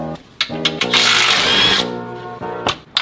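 A power tool whirs out a 15 mm bolt holding the skid plate over the oil pan of an off-road Ford. One loud, close burst lasts about a second amid steady tonal background sounds.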